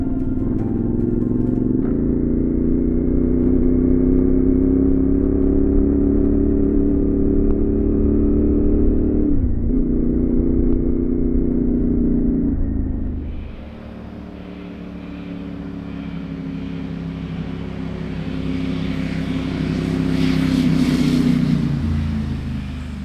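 A motorcycle's exhaust note while riding through winter wilderness, a loud, close, continuous engine drone with a steady low rumble that dips and rises as the throttle changes, with no talk.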